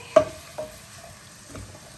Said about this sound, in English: You can leave your oil to be sizzling hot.